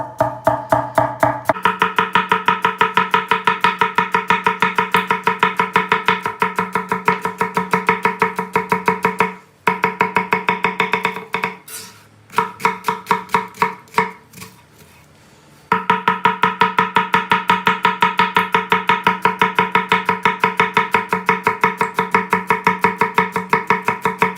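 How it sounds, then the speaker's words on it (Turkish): Rapid, even knife chops finely dicing onion on a cutting board, a fast steady rhythm that pauses briefly midway, then resumes at the same brisk pace, close and loud. "Soğanımızı ince doğrayacağız."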